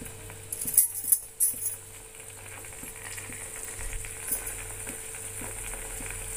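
Butter bubbles and fries softly in a pan as ghee is made at home, a low continuous sizzle with a few clinks of a utensil near the start and small popping ticks throughout.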